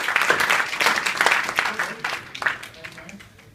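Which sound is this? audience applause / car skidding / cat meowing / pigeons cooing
audience applause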